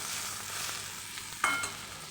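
Capsicum and chicken fry in a pan with a steady, moderate sizzle, broken by the occasional scrape and clink of a spatula as the pieces are stirred.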